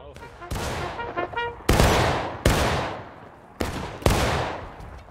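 Musket fire in the Civil War game War of Rights during a skirmish at Bolivar Heights, with sharp, loud, ragged shots cracking out one after another, each followed by a rolling decay, alongside shouted commands.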